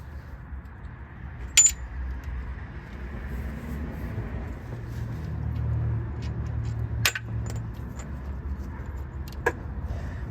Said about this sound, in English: we're going to push in on the axle and drop the C-clip out